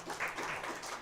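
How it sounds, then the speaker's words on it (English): A live audience applauds Santa and Mrs. Claus at a holiday show, giving a short, faint burst of scattered clapping. "So give Mrs. Claus and Santa Claus another round of applause."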